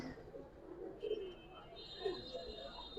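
Giribaz silver khaki pigeons coo in low, throaty bursts at close range, a few soft calls spread over quiet background noise with faint higher chirps.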